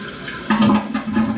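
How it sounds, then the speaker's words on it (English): Toilet tank refilling with water, a quiet hiss that swells into a louder gurgling rush halfway through and keeps running to the end. "Some water coming back in."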